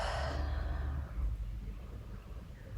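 A single long, audible exhaled breath during yoga rest, close and soft, fading into quiet room tone.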